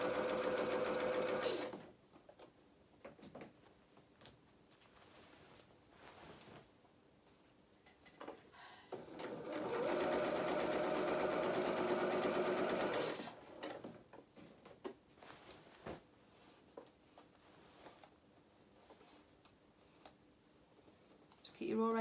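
A sewing machine stitches a dress skirt to its bodice in several bursts, a close, steady mechanical whirr that starts and stops, with clicks and handling noises between runs and a voice talking over parts of it.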